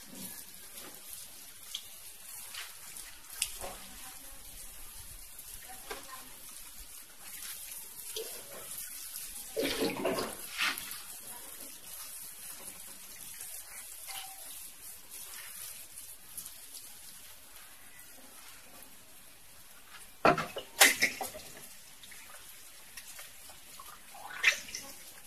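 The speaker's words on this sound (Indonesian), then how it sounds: "Kemudian kita siram dengan air secukupnya ya." Water poured over a newly planted Gelombang Cinta plant, with faint trickling and splashing spread across the clip and a few louder bursts of pouring near the end, no voices.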